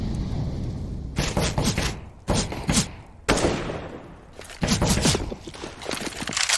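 Pistol fire from a Counter-Strike: Global Offensive match during an eco round with P250s and Desert Eagles: several bursts of sharp shots separated by short pauses, fairly loud over game ambience, no talk.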